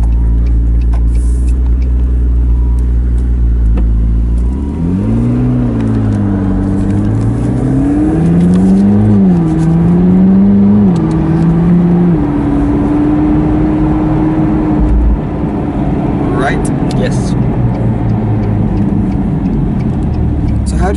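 A McLaren 12C Spider with Gemballa modifications, driven by an 18-year-old, drones steadily through the cabin, then revs up in rising and falling pulls before settling into a constant cruise. People talk over the engine throughout.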